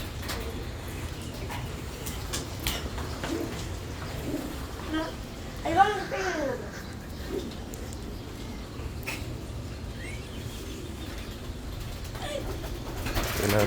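Pigeons coo softly in their loft, a few low rolling calls rising out of a steady background hum, close but not loud.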